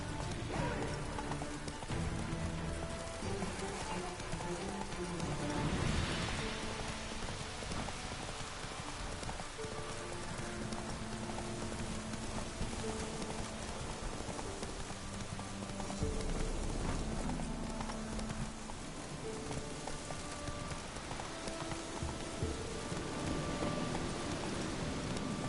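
Horse hooves gallop through rain in the video game The Witcher 3: Wild Hunt, a continuous muffled rhythmic pounding beneath steady rainfall and background music, moderately quiet throughout.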